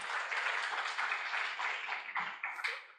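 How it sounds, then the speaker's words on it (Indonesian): An audience claps at a visiting medical lecture on palliative care, a dense, steady patter of many hands that fades in the last moments. "tepuk tangan dulu."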